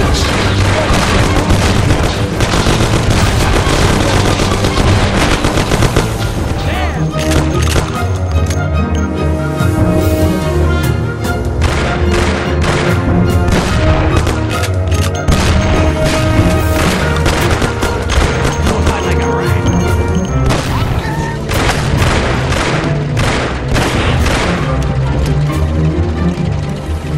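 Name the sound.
gunfire in a shootout, Mafia (2002) video game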